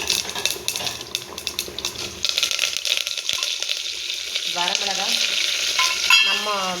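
Curry leaves and dried red chillies crackle and sizzle as they fry in hot oil for a country chicken gravy, with a steady, loud spluttering, stirring scrapes and an occasional clink of the pan.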